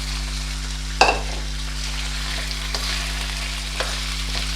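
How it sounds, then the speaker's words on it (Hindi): Chicken pieces with some onion fry in a pot for a Lahori chicken chana dish, sizzling softly and steadily, with a clear stirring clank near the start and a few faint scrapes afterward under a low hum. "चिकन को उस वक्त तक फ्राई करूँगी जब तक इसका कलर चेंज नहीं हो जाता।"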